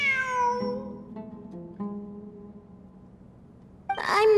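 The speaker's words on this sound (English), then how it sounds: "I'm not hearing things. It really is a cat." A cat in the Genshin Impact video game meows in long drawn-out wavering calls, followed by a sharper higher meow at the end, clear and prominent with faint background game sound.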